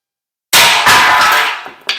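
A hammer strikes the metal cross member of a 1978 Ford gas tank being fitted to a 2011 Super Duty truck, giving one loud ringing clang that decays slowly, then a softer tap and a final knock.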